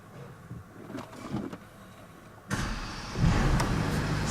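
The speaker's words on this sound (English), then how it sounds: "So let's start the car up, turn the toggle." Porsche Panamera started with a toggle switch from inside the cabin: quiet interior clicks, then the engine catches and settles into a steady muffled idle.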